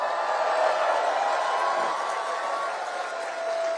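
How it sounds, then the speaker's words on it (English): Rally crowd applauds for John Nunziata, a former Liberal member of Parliament, at a Pierre Poilievre rally; steady, dense clapping and crowd noise holds at an even level throughout, with no clear voices on top. "Give John a round of applause."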